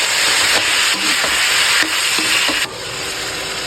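Steady sizzling and scraping of vegetables for pakbet being stirred in a hot pan with plenty of tomatoes, loud and close, with a few distinct clinks of the utensil against the pan.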